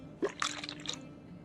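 Fluid drains from a car using the drain tool in Car Mechanic Simulator 2021, heard as a short quiet liquid splash and trickle with a brief squish, alone and close.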